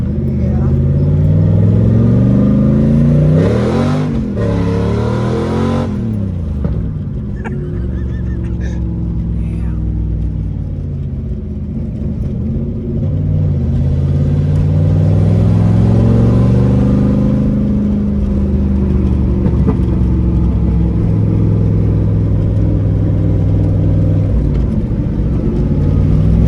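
Ford Mustang with a T5 manual transmission floored at full throttle, the engine note climbing and dropping through gear changes, loud and close, with people talking inside the car over it.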